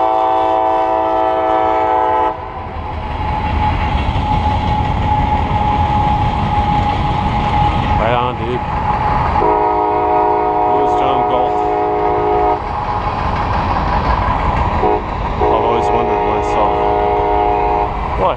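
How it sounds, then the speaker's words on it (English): Passing train with repeated loud horn blasts over a continuous rumble of rolling rail cars, the horn sounding in several long bursts close by, with occasional voices underneath. "Ah, got train action here."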